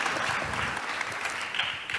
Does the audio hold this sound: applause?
yes